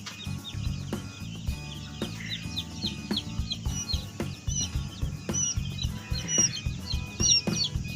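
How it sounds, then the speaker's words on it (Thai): Newborn domestic chicks and quail chicks chirp constantly on a small farm, a dense overlapping chorus of high peeping with scattered louder calls, steady and fairly close throughout. "ลูกไก่บ้านกับลูกนกกระทานะครับ"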